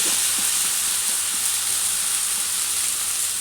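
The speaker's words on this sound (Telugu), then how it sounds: "ఈ ఉల్లిగడ్డ కూడా మంచిగా కాలుతాయి మంచిగా ఇట్లా వేగుతాయి" Onions on a dosa-batter uttapam sizzle steadily on a hot pan, a constant bright frying hiss with a few faint soft taps, heard alone without speech.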